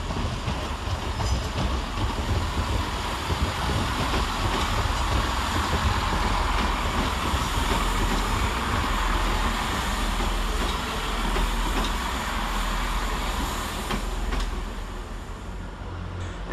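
Great Western Railway Class 165 diesel unit 165113 arriving at Redhill station, a loud, continuous engine rumble and rolling of wheels that holds steady throughout, with a faint squeal near the end.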